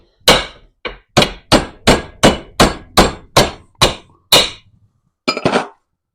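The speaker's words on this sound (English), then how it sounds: "I'm just going to put it in the vise and bash the centre out" A hammer bashes the centre out of a hard poly suspension bush clamped in a vise, about a dozen loud, sharp metallic blows in a steady rhythm with a brief pause before a final rattling strike.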